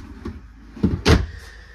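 Drawers in a 2018 Kodiak Cub 185MB RV bathroom sliding open, a couple of close wooden thumps and rattles, the second louder, in a quiet room.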